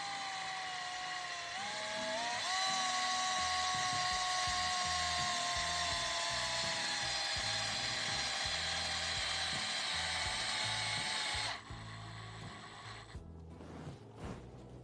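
A power drill tightening a screw on a wisteria training wire whirs loudly, its motor pitch rising and then holding steady for several seconds before stopping, leaving lower mechanical rattling behind.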